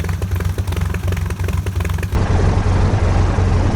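A de Havilland Gipsy 1C piston engine on a DH-87B Hornet Moth runs steadily nearby with a rhythmic, throbbing idle, then grows rougher and louder partway through.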